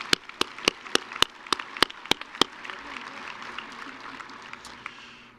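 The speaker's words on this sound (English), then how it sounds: "Let's give them a round of applause." An audience at the University of Idaho winter commencement ceremony applauds the platform party. A handful of sharp, distinct claps ring out first, then swell into broad, even applause that slowly fades.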